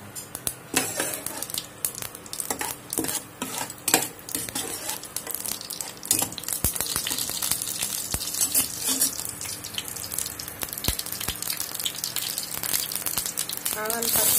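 Mustard seeds sizzle and pop in hot oil, a steady frying hiss broken by frequent sharp crackles and spits, heard up close with some talking underneath.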